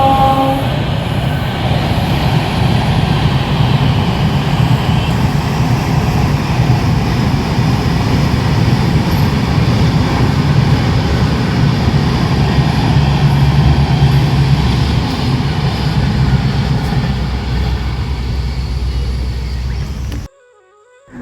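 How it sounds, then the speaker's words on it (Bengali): A train rolls past at close range, a loud, steady rumble and rattle of wagons sustained for about twenty seconds before cutting off abruptly. "দাঁড়িয়ে থাকার পরে ওই ট্রেন আসলো"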